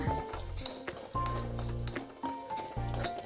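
Onion and dried red chillies fry in a pan along with cumin, curry leaves and turmeric for a tender jackfruit thoran. A steady, soft sizzle runs throughout alongside faint stirring and background music.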